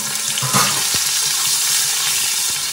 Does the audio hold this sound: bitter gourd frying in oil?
yes